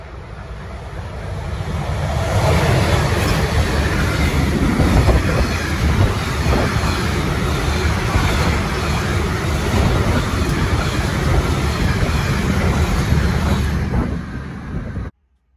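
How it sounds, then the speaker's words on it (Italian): A Trenitalia Frecciarossa high-speed train at Bologna station makes a loud, sustained rushing rumble that swells in early on, holds steady and then cuts off abruptly, with no voices. "Freccia rossa 88-19 di Trenitalia, proveniente da Milano Centrale e diretto a Bari Centrale"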